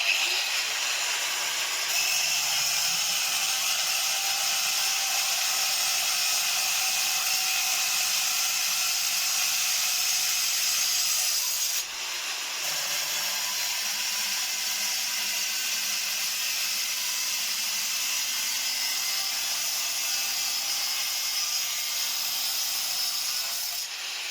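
A DB box for electrical wiring being cut, a continuous close, harsh rasping saw sound running steadily with one brief break midway, no voices.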